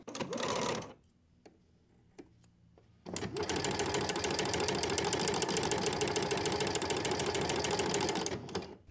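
A sewing machine fitted with a flower stitch foot stitches fabric. A brief burst comes first, then a quiet gap with a few clicks, then a loud, steady, rapid mechanical whir that runs for several seconds before stopping.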